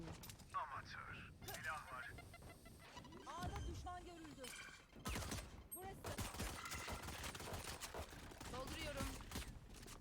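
Gunfire in the Valorant video game, rapid bursts of shots and weapon mechanism clicks recurring throughout, with a player's voice talking over the action at times.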